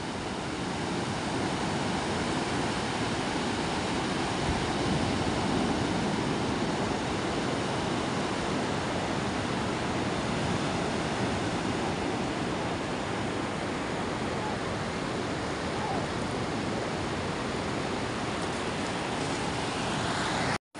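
A strong river current rushes past in a loud, steady roar of churning water that holds unbroken for about twenty seconds, with no talking.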